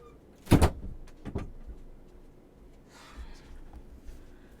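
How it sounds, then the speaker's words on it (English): A door closes indoors with a close, sharp thud and latch click, followed by a second softer knock, then quiet room tone with faint rustling. "Let me close my door."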